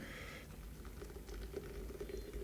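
Hot water poured into instant coffee outdoors in the backcountry, a steady soft liquid patter and trickle running continuously at close range with no talking.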